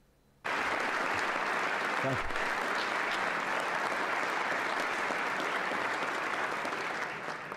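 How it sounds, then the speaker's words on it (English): Thunderous applause for a political speech by Asa Hutchinson, a loud, dense crowd of clapping that starts abruptly after a brief quiet moment and holds steady throughout, with no talk over it. "This is Asa Hutchinson getting this thunderous applause."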